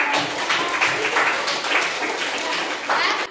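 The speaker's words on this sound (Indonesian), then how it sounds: "kita apresiasi tepuk tangan dulu" Applause for presenters at a classroom teaching session: a steady, dense patter of many hands clapping continuously, fairly soft and with no voices over it.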